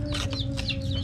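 Pet chickens clucking close by in a brief burst of several short clucks over a steady background hum.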